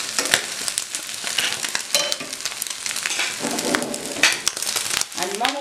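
Eggs for a corn omelette fry in a pan with a bright, continuous sizzle and crackle, broken by scraping and stirring sounds as the mixture is moved, while a person talks over it.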